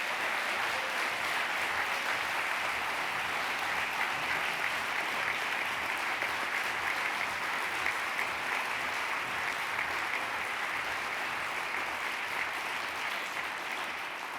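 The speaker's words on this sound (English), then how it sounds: "Please give them a round of applause." At the 2023 TU Dublin Research and Innovation Awards ceremony, a seated audience applauds the award recipients with long, even, sustained clapping that holds at a steady level from start to finish.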